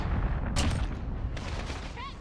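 Gunfire in the Modern Warfare beta multiplayer, a dense loud burst of shots near the start, then continuous battle noise with further shots and a rising whistle-like tone near the end.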